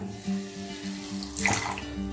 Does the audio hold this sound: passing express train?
no